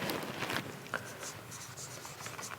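A pen scratches across paper while someone works through an accounting problem, a soft, steady run of close, quiet writing strokes with light rubbing.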